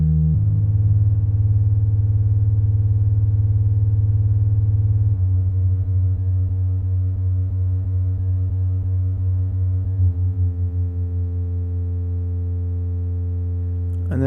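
A steady, buzzy synthesizer tone from a Sputnik Modular dual oscillator holds one pitch, its timbre shifting slightly in a couple of steps as oscillator sync is applied.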